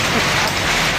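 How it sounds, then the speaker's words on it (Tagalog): Heavy drizzle falls during a motorcycle ride, a loud, dense hiss of rain and wind noise filling the brief moment without pause. "Malakas na ambon."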